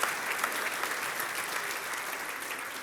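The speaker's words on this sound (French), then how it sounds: "si vous applaudissez, applaudissez pour de vrai" A church audience gives sustained, even applause with many hands clapping close and constant for a few seconds, no talking on top.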